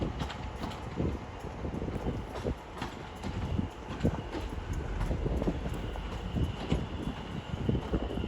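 A Class 710 train moves slowly through Watford Junction, producing a steady clattering rumble with irregular knocks and thumps of wheels over points, close and continuous without talk.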